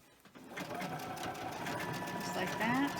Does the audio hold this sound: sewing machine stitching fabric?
yes